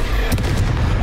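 A Confringo blasting spell goes off in Hogwarts Legacy, a loud dense blast with a crackling burst in the middle, close and heavy throughout its short length.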